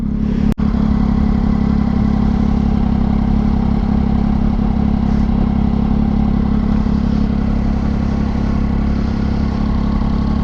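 A motorcycle engine runs steadily up close, a loud low rumble that holds without change, with one sharp click near the start.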